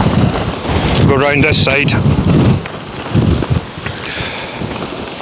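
Storm Bert winds of about 40 mph buffet a tent, roaring and blustering loudly into the microphone in heavy gusts. A person speaks briefly over the rushing wind.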